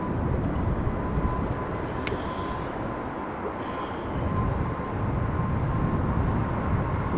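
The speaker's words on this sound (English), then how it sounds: "No, this is KLM flight 565 to Nairobi. 777-300" KLM Boeing 777-300 bound for Nairobi at Amsterdam Schiphol: a continuous low engine rumble with a faint steady whine, swelling slightly at the end, with a brief click midway and no talk.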